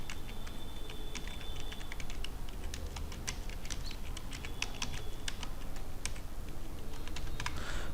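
Rapid, steady clicking of keys on a computer keyboard while typing in Microsoft Word, close and continuous for about eight seconds with no voices.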